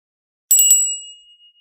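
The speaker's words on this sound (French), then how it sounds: "tu vas reprendre la cloche, tu vas sonner la fin de ton rituel" A ritual hand bell, rung to close a white magic protection ritual, gives a few quick bright strikes that merge into a clear ringing tone, which decays slowly into silence, heard alone with no talk.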